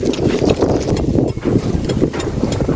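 Wind gusts buffet the microphone outdoors in a Thai village, a loud, steady rumbling roar that rises and dips throughout.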